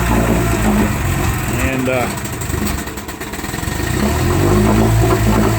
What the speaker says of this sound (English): I'll let this motor run a while here and get warmed up